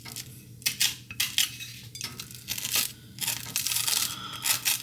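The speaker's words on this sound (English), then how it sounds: "Spread some whipped butter." A knife scrapes whipped butter across crisp gluten-free toast in a kitchen, giving loud, close, gritty strokes in repeated bursts with brief pauses and no talking.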